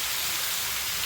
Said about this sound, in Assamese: আজি বৰষুণ দি ঠাণ্ডা বৰষুণ নিচিনা হৈ গৈছে।